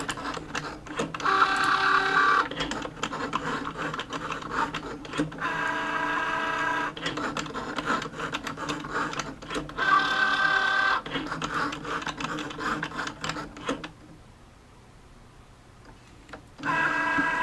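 Electronic cutting machine cutting cardstock, a loud close whirring mechanical drive with rhythmic ticking carriage movements in bursts, a brief quieter pause near the end before it starts again.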